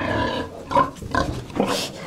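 Fifteen-day-old piglets squeal and grunt in a shed at feeding time, a few short close calls in quick succession.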